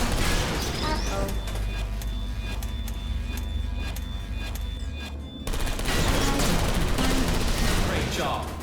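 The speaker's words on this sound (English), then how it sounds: "That's half the servers on this site blown up." Servers exploding in the video game Portal Stories: Mel, a rapid crackling burst of repeated blasts followed by a louder rumbling explosion, dense and close, with game voices in the background.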